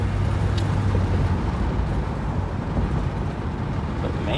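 A 1968 Ford LTD with a 2.75 rear gear ratio cruises along, its engine and road noise a steady loud rumble heard from inside the car, broadband and unbroken for the whole stretch.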